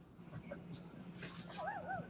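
A dog whimpers and yips with rising, wavering cries at close range, mixed in with people talking in the background.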